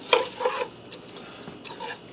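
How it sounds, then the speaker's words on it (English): Raw white rice is stirred into chicken broth in the pot of a Ninja Speedi cooker, giving a few soft scraping, sloshing strokes near and moderately loud, with no talking. "And I'm going to give that a stir."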